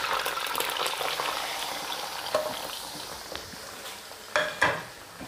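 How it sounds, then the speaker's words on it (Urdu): Chicken frying in hot oil for a chicken curry, a soft bubbling sizzle with occasional clinks and scrapes of a utensil against the pan, growing briefly louder near the end, with no talking. "اب میں اس کے اوپر چکن ڈالتا ہوں."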